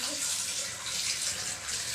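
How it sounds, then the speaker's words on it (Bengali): Food being washed under a running kitchen tap, a steady close rush of splashing water filling the short stretch, with faint voices in the background. "এবারে ভালো করে তাকে ধোয়া হবে"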